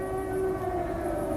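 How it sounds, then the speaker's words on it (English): An air raid siren wails during a wartime night alarm in Nazi Germany, a steady, loud, sustained tone with layered harmonics that holds unbroken throughout, with no voices. "Then the siren again."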